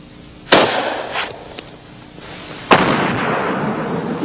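Two sharp, loud 30-06 hunting rifle shots, about two seconds apart, each a sudden blast followed by a noisy echoing tail, fired at a watermelon target outdoors.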